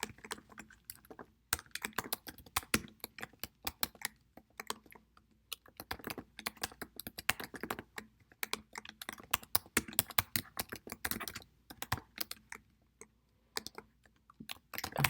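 Rapid, irregular typing on a computer keyboard while writing Python code, key clicks coming in uneven bursts with brief pauses, close and fairly quiet with no one talking.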